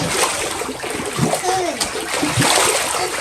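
People splash while playing in sea water, a busy, fairly close wash of splashes and watery slaps with scattered voices and a child's speech mixed in.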